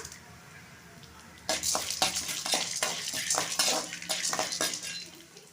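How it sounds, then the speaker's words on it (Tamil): Chana dal dry roasting in a pan, quiet at first, then a run of close rattling scrapes and clinks as the lentils are stirred, without talk. "கடலைப்பருப்பு இந்த அளவுக்கு வறுபட்டதுக்கு அப்புறம் நம்ம உளுந்து பருப்பு போட்டுடலாம்"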